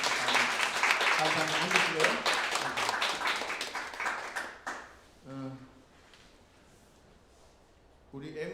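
A church congregation claps warmly during a Sunday service for about five seconds, the applause fading out before a voice speaks briefly, then silence and more talk.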